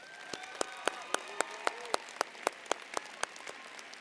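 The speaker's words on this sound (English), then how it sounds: "Please give our honorees a round of applause." A commencement audience applauds honorees at a university graduation ceremony, a steady wash of clapping from a large crowd in a hall, with sharp individual claps standing out near the microphone throughout.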